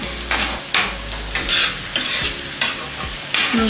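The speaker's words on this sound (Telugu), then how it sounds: "ఇలా కలుపుతూ ఉండాలి, లేకపోతే అడుగు కొంచెం మాడినట్టు అనిపిస్తుంది మనకి." A spatula is worked repeatedly through egg and beans curry in a pan, giving loud, regular scraping strokes about every half second over a low sizzle.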